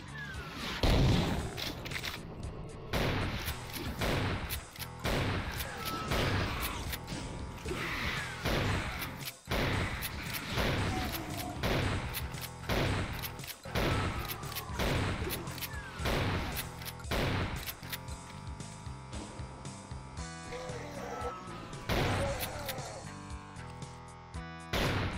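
Rapid gunfire and heavy blasts from Doom-style video game enemies, a chaingunner and a mancubus, as a dense, continuous barrage of sharp repeated shots and booming impacts.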